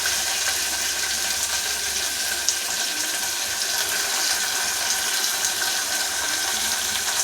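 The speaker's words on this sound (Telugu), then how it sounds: "మిగిలిన వాటర్ ఏదైతే ఉందో ఆ వాటర్ కూడా దానిలోకి పోసుకోవాలి." Leftover water poured into a simmering tomato and ivy gourd curry makes a continuous splashing, gurgling flow that runs steadily and moderately loud for several seconds.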